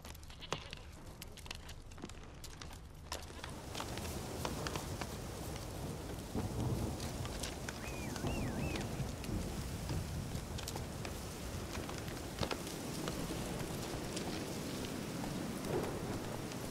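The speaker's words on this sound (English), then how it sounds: "Storm, damn it." A thunderstorm with steady rain in The Witcher 3: Wild Hunt, rain hissing throughout with low rolling thunder, quiet at first and then fuller, with faint ambient game sounds and no talk.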